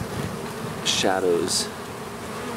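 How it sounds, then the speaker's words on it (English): Bees swarming on a wagon give a steady, soft insect hum throughout, with a voice speaking briefly in the middle. "That is a lot of bees."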